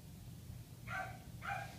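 Five-week-old puppies give two short high yips, moderately close, over a low background rumble.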